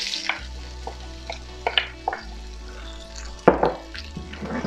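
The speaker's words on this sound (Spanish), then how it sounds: "Vamos a echar los vegetales de una vez." Vegetables tip into a hot pan for Mexicali-style Chinese almond chicken, producing a steady frying sizzle with scattered clinks and scrapes of stirring, close and moderately loud.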